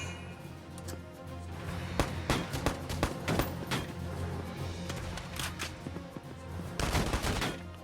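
Rifle gunfire in the Valkyria Chronicles 4 video game: a rapid string of sharp shots, some grouped in quick bursts, then a louder cluster near the end, all over a steady low game hum with no talk.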